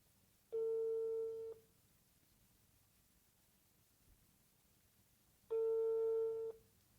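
A phone call's ringback tone sounds twice, two long steady electronic beeps about five seconds apart over faint background hiss, with no talking.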